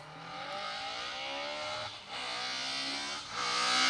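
A rally car tears through a forest stage in the Protyre BTRDA Rally Series, its engine revving hard and steadily with two brief lifts for gear changes before climbing again, close and loud.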